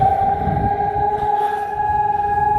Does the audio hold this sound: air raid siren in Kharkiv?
yes